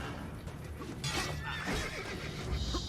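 A horse in the Assassin's Creed: Brotherhood video game gives a loud shrill neigh with a whinny, amid hoofbeats and game noise, with a voice faintly underneath.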